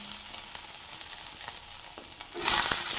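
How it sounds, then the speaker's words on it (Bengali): Raisins, cashews, chopped ginger and onion fry in oil with a steady low sizzle that swells into a louder, brighter hiss near the end as more goes into the pan; no talking. "কিশমিশ আর কাজু বাদামটাকে একটু ভালো করে ভেজে নেব।"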